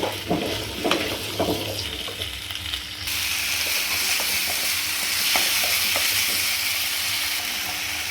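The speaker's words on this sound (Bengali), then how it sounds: "তাই কুমড়োটা আমি হালকা করে তেলের মধ্যে ভেজে নিচ্ছি" Pumpkin pieces fry lightly in oil for a vegetarian pumpkin-potato dish, a close, continuous sizzle that grows louder and denser after a few seconds, with a few light stirring knocks at the start.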